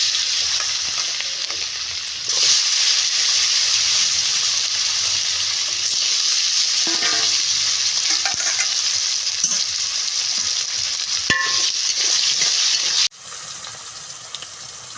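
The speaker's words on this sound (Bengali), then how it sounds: "আলুটা আমি এখন ভেজে নেব হালকা করে।" Potatoes fry in a pan for a light fry, a steady close sizzle and crackle running almost throughout with a few stirring scrapes, cutting off abruptly near the end.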